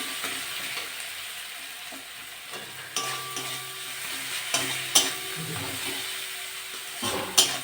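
Spice mixture for papaya dhoka sautés in a pan, a soft continuous sizzle broken by scraping stirs and several sharp clinks of a spoon against the pan, close and unaccompanied by speech.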